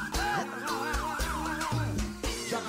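A wailing siren sound effect loops over a pounding beat in a live baião music set. Its rising and falling sweeps repeat close and loud, with punchy drum hits underneath.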